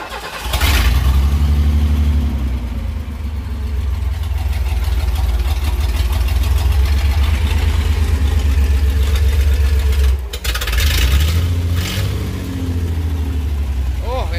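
A long-idle Ford 300 inline-six cranks and catches, then runs loud and steady close by with a brief dip near the end before picking up again, while people talk over it.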